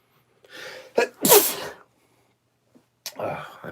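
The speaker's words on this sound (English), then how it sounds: "I may sneeze here." A single person sneezes indoors: a quick inhale, then one sharp burst, and a soft breathy sound after a short pause.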